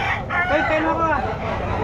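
A rooster crows once, loud and close, a drawn-out wavering call amid the bustle of a pet market in Malolos.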